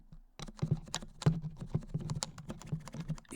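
Typing on a stock Happy Hacking Keyboard (HHKB), a steady run of close, crisp keystroke clicks and thocks in a quick irregular rhythm, heard alone without any talk.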